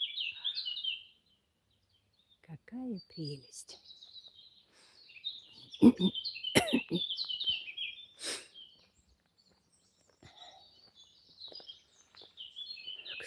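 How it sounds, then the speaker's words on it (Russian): Several birds trade chirps and high calls back and forth in pauses, one calling and then waiting for a reply, with a few brief voices and a short exclamation mixed in outdoors. "птицы переговариваются друг с другом"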